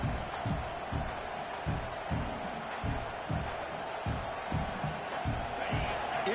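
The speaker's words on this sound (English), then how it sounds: "It's early, but this crowd is fired up. Listen to this noise here." Crowd at a college football game between Tennessee and LSU, a rumbling wall of noise with rhythmic surges, like chanting or stomping, repeating about every half second, moderately distant and with no one talking.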